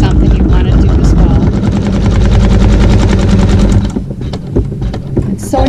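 A home embroidery machine sews a placement stitch for an appliqué fleur-de-lis quilt block, a loud, fast, steady mechanical thrumming of needle strokes that runs without pause and drops in level just before the end.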